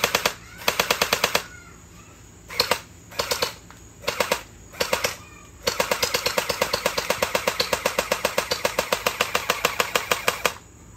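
Anstoy M4A1 gen 8 gel blaster running on a weak, failing battery, firing loud close bursts of rapid full-auto shots with short pauses between, ending in one long sustained burst.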